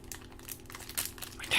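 Crinkly paper is crumpled and handled near the microphone, giving a quick run of close, irregular crackles that grow louder toward the end.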